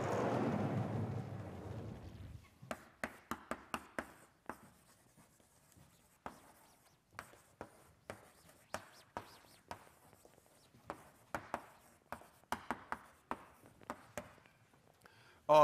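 Chalk or marker strokes writing an equation on a board during a university math lecture, a run of sharp, close taps and scratches in uneven rhythm after a few seconds of quiet room noise.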